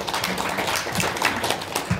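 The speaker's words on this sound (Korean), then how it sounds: "박수 부탁드리겠습니다." Applause from a crowd at a volunteer award ceremony, with dense, steady clapping that continues at even loudness throughout.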